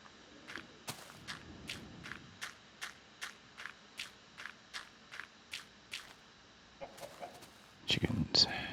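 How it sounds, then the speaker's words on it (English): Short, sharp clucks from chickens in Minecraft Alpha v1.0 repeat at an even, quick pace, faint and close, ending in a brief louder scuffle. "Chickens."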